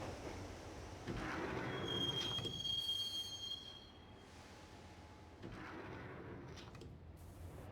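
Subway train riding along the tracks in the game Max Payne, a steady rumble with wheels squealing in a thin high whine and clattering swells as the cars rock.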